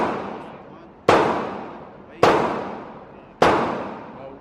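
Three sharp gunshots at an outdoor shooting range, evenly spaced about a second apart, each loud close crack trailing into a long reverberant decay.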